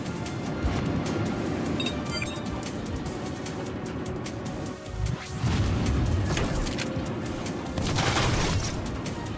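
Mech combat in the tactical game Front Mission 3, a dense continuous roar of rapid gunfire and mechanical rumble with a short dip and swell midway, loud and without talk.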